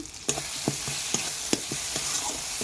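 Salt and turmeric being stirred into a stingray and potato fish curry in a pan: a rhythmic run of spoon scrapes over a soft sizzle, close and fairly loud.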